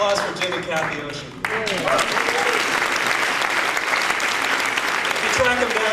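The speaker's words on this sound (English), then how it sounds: "Big applause for Jim and Capt Ocean." An audience breaks into loud, dense applause at a talk, after a short stretch of voice, and keeps clapping steadily and close for several seconds.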